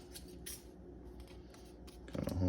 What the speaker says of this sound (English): grab the scissors and we just kind of cut around the edges